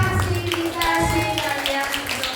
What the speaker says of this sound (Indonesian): Tepuk tangan untuk ibu kepala sekolah